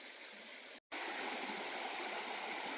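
Stream water rushes steadily with a broad, even hiss during a ford crossing on a hiking trail. The sound is close and continuous, broken by one brief full dropout.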